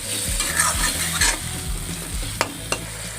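Tomato paste sizzling and frying in a pan for chhole, with repeated scraping stir strokes in a steady rhythm and a couple of sharp clinks of the spoon near the end.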